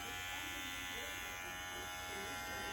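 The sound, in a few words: Caliber hair clipper running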